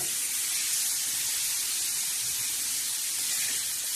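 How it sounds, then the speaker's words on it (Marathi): Chopped onion fries in oil in a pan, giving a steady, close, continuous sizzling hiss throughout with no talking. "आता चांगला फ्राय होतोय आपला हे कांदा"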